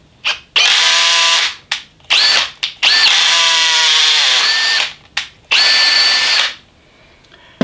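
A power drill drives a lubricated tap to cut a screw thread in steel, heard as loud high-speed whining bursts that start and stop repeatedly, with short pauses between runs, close up and without talk.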